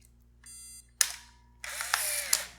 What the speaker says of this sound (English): And then listen to this noise when this thing fires,